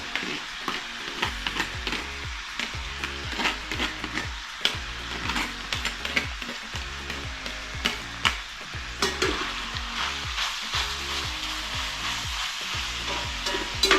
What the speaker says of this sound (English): Let's go ahead and just put them in there and get them cooking down a little bit.